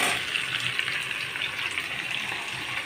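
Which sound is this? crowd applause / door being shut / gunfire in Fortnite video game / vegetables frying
vegetables frying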